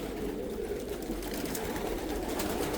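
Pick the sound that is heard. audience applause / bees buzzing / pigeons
pigeons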